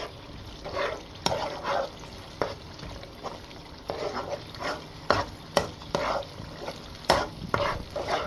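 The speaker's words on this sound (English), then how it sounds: "we're gonna fry it till the sour taste is out. Yes, because this is tin tomato" Tinned tomato frying in a pan, with a steady low sizzle and intermittent stirring scrapes and clinks recurring throughout.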